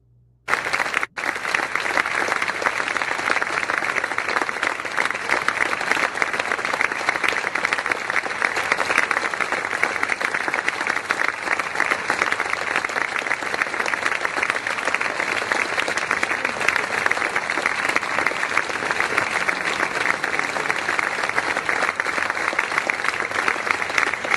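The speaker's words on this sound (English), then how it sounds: "Here we go with the applause." Loud, sustained applause from a crowd at a formal event, continuous dense clapping lasting over twenty seconds after a brief quiet start.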